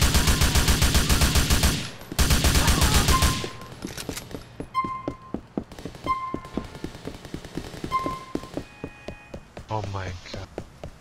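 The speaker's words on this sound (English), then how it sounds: "Ah, shotgun." Shotgun fire in GTA IV: a loud, close barrage of rapid shots lasting about three seconds, followed by scattered quieter pops, with people talking.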